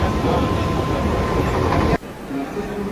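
Rumbling ride inside a crowded Mumbai local train leaving Malad, loud steady clatter and hum that cuts abruptly to a quieter carriage interior with faint voices.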